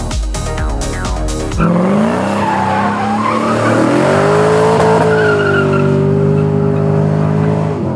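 Tires squealing loudly as a race car spins them to warm up, likely a 420 hp 1969 Volvo Amazon drag car, with a brief engine rev at the start followed by a long, sustained screech close by.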